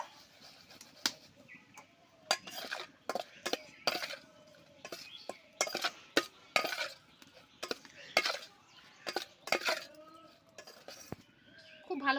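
Prawns being rubbed by hand with salt and turmeric for a Bengali echor chingri dish, producing wet squelching and clicking shell contacts in irregular bursts, close and fairly quiet, with faint background voices.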